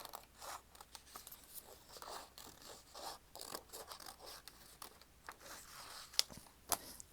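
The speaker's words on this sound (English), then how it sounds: "This now we can cut out, if I can see where to cut out." Scissors cut out paper while journaling at night, a series of faint, close snips and rustles with soft paper scraping between them and a couple of sharper clicks near the end.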